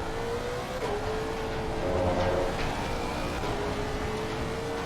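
On a racetrack, a car's engine holds a steady droning note, as heard from inside the cabin, while the driver pushes it into oversteer, with a brief rise in revs midway.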